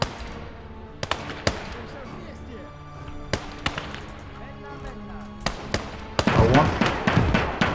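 Grenades burst in a Call to Arms: Gates of Hell battle, sharp blasts cracking out one after another amid scattered gunfire, with a denser cluster of explosions near the end.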